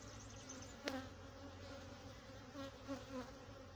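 Honey bees buzzing at an open hive during an apiary inspection, a steady faint drone of many insects with a few louder passes close by.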